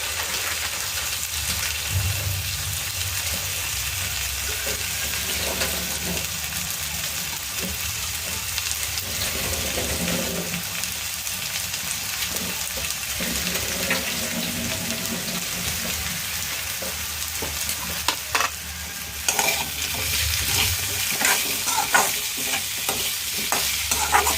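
Potatoes fry in hot oil in a pan and are stirred now and then, giving a steady close sizzle with occasional scraping and clinking of the utensil, and no talking.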